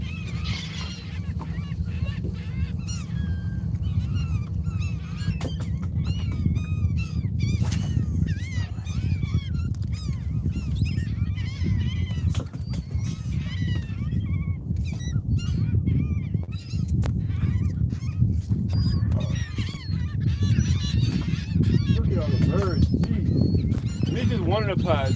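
Dense chorus of many birds calling and honking over Lake Pontchartrain, continuous and overlapping near and far, with someone talking over it and a steady low boat-motor rumble underneath.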